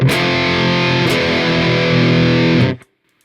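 A heavily distorted metal electric guitar chord through a 5150 amp simulator in Amplitube 5 rings out loud and sustained for nearly three seconds, then is abruptly cut to silence.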